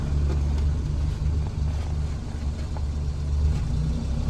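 A car pulls away in first gear with friends aboard, its engine a steady, loud, low rumble that runs unbroken throughout with no voices.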